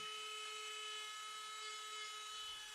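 A Dremel rotary tool power-carves the nose of a wooden wood spirit face, producing a faint, constant high-pitched whine that holds steady for a few seconds.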